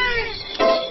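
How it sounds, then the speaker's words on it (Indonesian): A cartoon cat in the BoBoiBoy animated series gives a single short meow, loud and close, over a bright musical background score. "Kucing? Oh, comelnya!"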